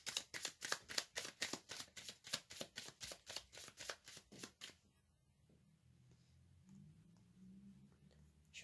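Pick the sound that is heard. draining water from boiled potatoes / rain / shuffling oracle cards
shuffling oracle cards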